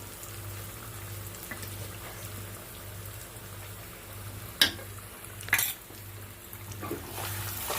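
Stuffed bitter gourds sizzle gently in oil in a pan while being stirred, a soft, steady frying hiss broken by a couple of brief scraping clatters from the spoon against the pan.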